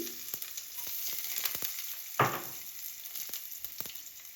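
Urad dal and crushed garlic frying in hot oil in a home kitchen, a steady close sizzle broken by sharp spatula scrapes and one louder crackling burst.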